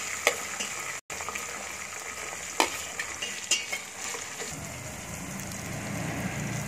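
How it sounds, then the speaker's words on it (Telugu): Onion pieces and green chilli slices frying in oil in a pan for pumpkin buttermilk stew, a steady close sizzle with a few stirring knocks and scrapes and a short dropout near the start. "ఉల్లిపాయ ముక్కలు వేసి ఫ్రై చేసుకుందాం"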